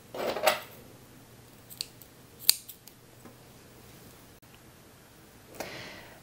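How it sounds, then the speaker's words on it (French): Scissors snip through elastic trim while sewing a bodysuit, giving a few sharp, close cuts with quiet pauses between them and a last soft snip near the end. "Et donc je coupe la longueur de laminette dont j'ai besoin."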